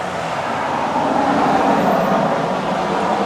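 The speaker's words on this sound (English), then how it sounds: "There goes another truck." A truck rolls past on a rural road, a steady broadband roar that holds at a constant loud level for the whole stretch with no other sounds on top.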